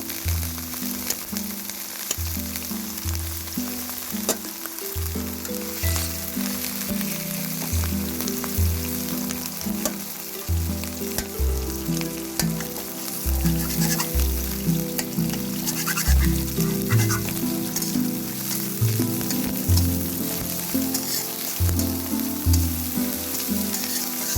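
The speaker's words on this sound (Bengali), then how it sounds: "এখন হচ্ছে ভালো করে ভেজে নেব" Chopped onion, garlic cloves and green chillies frying in a pan for a fish bhorta: loud, continuous close sizzling with stirring and scraping sounds throughout.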